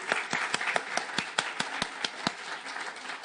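A church congregation clapping during a Sunday service, a sparse, uneven run of sharp claps, fairly faint and alone.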